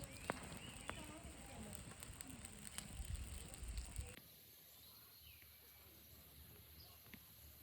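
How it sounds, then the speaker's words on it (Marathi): A fire lit with a matchbox for roasting creek oysters in the Konkan style crackles and hisses close by for about four seconds, then drops to a much quieter background. "आता त्याला आपण जाळणार आहोत. काडीपेटीने पेटवून घेणार आहोत."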